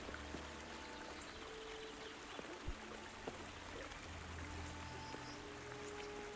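A shallow stream flows steadily in Kingdom Come Deliverance, a continuous watery wash with a faint trickle and occasional small splashes, moderately near, with no talk over it.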